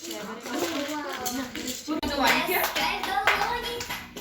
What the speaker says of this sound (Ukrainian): Плескай долоні, слухай гарну музику і плескай долоні.